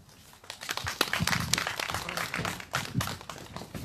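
A crowd at a candlelight rally in Seongju claps, a dense patter of many hands swelling and easing, moderately loud and without talk.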